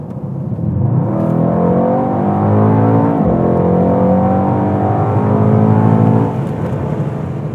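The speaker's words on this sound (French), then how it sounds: "on vous fait profiter d'une envolée lyrique du V8" Mercedes-AMG GT 63 S coupé with a 4.0-litre 639 hp V8 revving hard, a loud, close, sustained engine note that climbs in rising sweeps with a brief dip in the middle and then cuts off near the end, with no talk.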